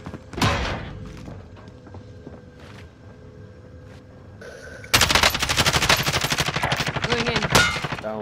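Gunfire in a shooter video game, with a short burst early on, a quieter stretch and then sustained rapid machine-gun fire that hammers loudly through the second half.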